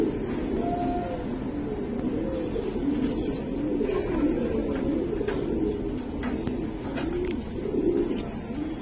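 Giribaz pigeons coo steadily in a loft, a continuous low murmur of overlapping birds throughout, moderately close with no pauses.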